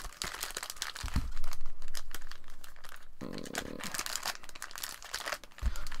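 Pokemon booster packs from a Costco bundle being shuffled by hand, giving close crinkling and rustling of foil wrappers in quick bursts, fairly quiet, with no talk.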